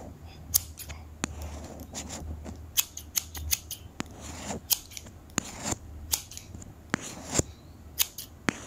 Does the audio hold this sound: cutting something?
yes